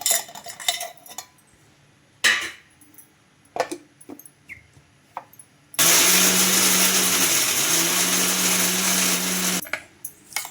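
Mixer grinder jar grinding coconut, coriander, urad dal and green chillies: a few utensil clinks and knocks come first, then a loud, steady motor whir runs for about four seconds before stopping.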